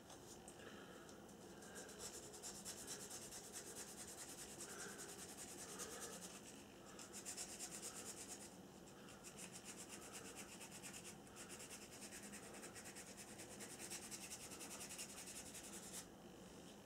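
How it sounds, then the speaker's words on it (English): Steady hand sanding of plastic scale-model aircraft parts, a continuous gritty rubbing with brief pauses between strokes, close by and alone without any talk. "Sanding."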